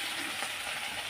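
Potatoes fry in a pan with a soft, continuous sizzle and crackle, faint and brief, with no voices.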